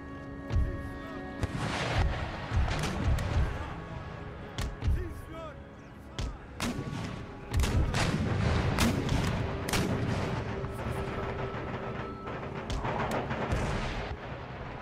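Cannon volleys in Empire: Total War boom repeatedly across an Italian battlefield, irregular heavy blasts that sometimes cluster, with spoken voices and battle noise between the shots.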